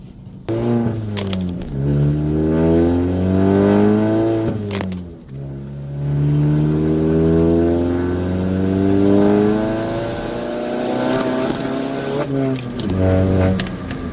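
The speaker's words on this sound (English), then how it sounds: "I'd like to apologize for this obnoxiously drony car" A car interior drones steadily while driving, with layered engine and road tones rising and falling throughout, loud and continuous, interrupted by a few sharp clicks or knocks.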